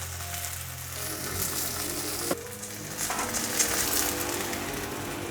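Slices of dried tofu pan-fry in a hot pan with a steady, close sizzle, a brief clatter of utensils partway through as the frying continues without any talking.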